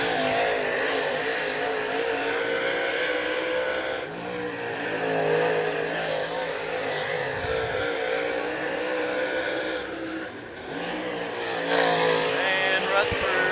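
A race car runs a timed lap at Wartburg Speedway, its engine droning loudly and steadily throughout with shifting pitch as it works around the track, while a commentator talks over it.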